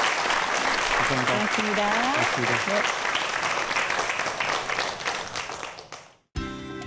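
A lecture audience gives hearty applause after a talk on robots. The clapping is loud and continuous, with a host speaking briefly over it early on. It fades before a brief spoken thank-you.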